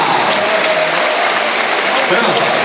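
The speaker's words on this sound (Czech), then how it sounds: "Ještě ten velký aplaus, protože tato mladá dáma si ho nesmírně zaslouží" Audience applause for a seven-year-old performer, Míša Bergerová, at an exhibition show: dense, sustained clapping from a crowd, loud and continuous throughout.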